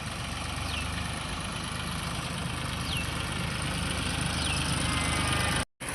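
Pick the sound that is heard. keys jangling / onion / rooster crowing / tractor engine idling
tractor engine idling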